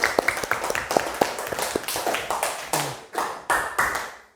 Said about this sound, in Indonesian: Tepuk tangan dulu lagi.